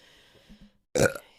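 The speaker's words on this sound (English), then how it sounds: "I'm going to burp." A single short, loud burp erupts close to the mic after a quiet moment, ending with a brief tail.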